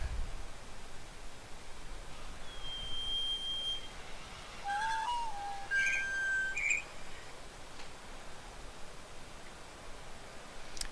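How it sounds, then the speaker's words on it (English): A slowed-down fast bird call from the video game The Witness plays as a few faint, drawn-out tonal chirps and pitch glides over a steady noisy hiss, spread across the middle of the stretch. "I have a slowed down version of that bird sound that like plays so fast."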